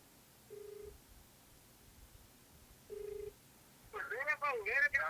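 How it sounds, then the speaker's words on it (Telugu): A phone call to a jobless-youth leader goes out during a live news segment: two steady dial-tone beeps sound at intervals, then a warbling electronic ring rises loud near the end. "మనం ఫోన్ చేద్దాం."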